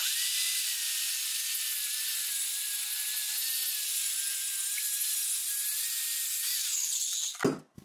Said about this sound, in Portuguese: Na hora que eu passar a minha serra aqui, ó. Vai cortar o bicho de uma vez sem precisar.